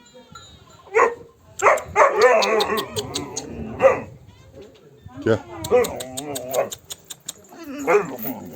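Dogs that had been lost and were just found bark and yip in short, excited bursts with whimpering between them, close by, while people talk over them.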